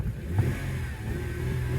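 A 2010 Mercedes with a slipping transmission, its engine revving steadily while in drive, a close, continuous low mid-pitched drone with slight swells and no talk.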